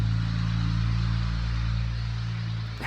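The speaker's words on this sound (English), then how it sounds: "very loud vehicle going past" A loud motor vehicle passes close by on a quiet island, its steady low engine rumble filling the whole stretch and easing off slightly toward the end.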